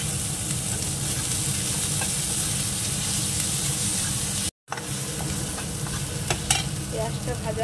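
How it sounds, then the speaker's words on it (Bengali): Chopped onions with a little salt frying in a pan give a steady close sizzle, with scraping stirs now and then and a brief cut partway through. "পেঁয়াজটা ভাজা হয়ে গেছে।"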